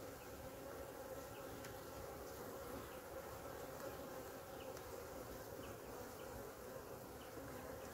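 A dense, steady hum of many honeybees buzzing together in an opened hive, constant and close, with no pauses.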